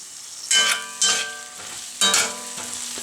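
Onions sauté in a pan for shrimp and artichoke spaghetti with a gentle sizzle. Three louder bursts of stirring and metallic scraping stand out, with a ringing tone between them.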